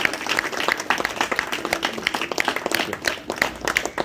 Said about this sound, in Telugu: అధ్యక్షులు పివిఎన్ మాధవ్ గారికి జన్మదిన శుభాకాంక్షలు మీ అందరి వైపు నుంచి చప్పట్ల ద్వారా హర్షధ్వానాలు తెలియజేయాలి